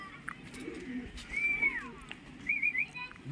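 Racing homing pigeons call over steady outdoor background noise, with a few short, clear tonal sweeps: one near the middle and a quick rippling run toward the end.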